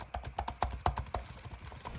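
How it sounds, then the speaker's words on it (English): Fingers type on the scissor-switch keyboard of a 16-inch MacBook Pro, producing a quick, irregular run of about a dozen light, soft clicks close by, with no one speaking. "They do make a clicking noise"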